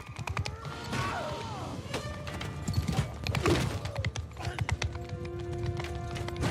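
Horses gallop in a cavalry charge in a Warhammer mod video game, with dense clip-clop hoofbeats, thuds and a whinny layered over battle clatter and faint voices.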